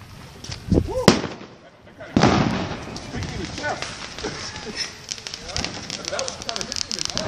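Fireworks bang at a July 4 celebration: a sharp, close blast followed by a second heavy boom a second later, then a crackling rumble as people shout and talk excitedly over it.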